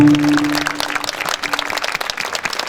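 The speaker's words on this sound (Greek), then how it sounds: "Και ένα χειροκρότημα για όλα τα παιδιά." Audience applause for the children at a music tribute concert, a brisk patter of many hands clapping close by, with a held musical tone fading out in the first moment.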